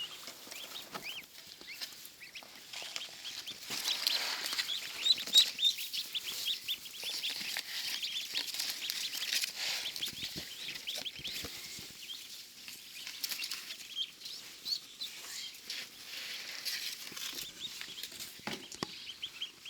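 Many newly hatched ducklings peep continuously, a soft, high, chattering chorus kept faint and steady throughout.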